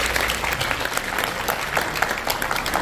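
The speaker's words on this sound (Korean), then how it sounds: "우리 서로에게 좀 격려의 박수, 또 존경의 박수 이렇게 드렸으면 좋겠습니다" Applause from a church congregation gathered at a Korean world mission conference, dense and steady clapping filling the hall throughout, close and fairly loud with no talking over it.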